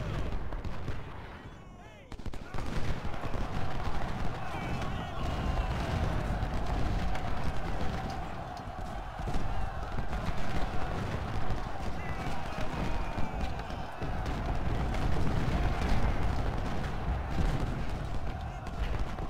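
An artillery gun fires in the video game Ultimate General Civil War, a continuous loud din of booms and rattling gunfire running across the whole battle scene, with a brief lull near the start.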